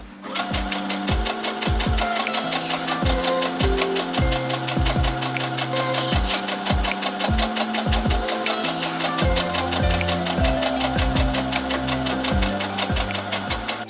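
A sewing machine stitches fabric pieces held without pins or clips, its steady rapid needle chatter running continuously at close range, with the motor pitch shifting slightly as the speed changes.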